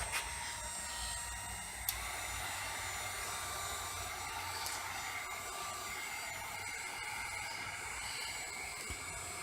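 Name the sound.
heat gun drying paint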